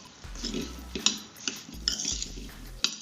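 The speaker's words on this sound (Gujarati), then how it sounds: "આ રીતના મરચાં હલાવી લઈશું" Green chilies are stirred in oil for pickle, giving repeated scraping and clinking of a spoon against a metal vessel in an irregular rhythm, close by and with no talking.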